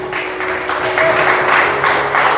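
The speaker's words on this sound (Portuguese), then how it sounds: "Você pode aplaudir a Jesus nessa noite, bem forte." A church congregation applauding during an evening worship service, steady dense clapping that swells slightly and holds throughout, with a sustained tone or music underneath.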